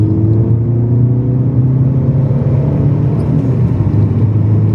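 Ford Focus ST diesel estate accelerating hard with wheelspin, a loud, steady engine drone and rising rumble held close throughout without speech.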